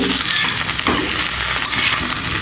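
Small fish (mola) frying in oil with turmeric and salt in a home kitchen, a steady close sizzle with faint stirring throughout, no talk.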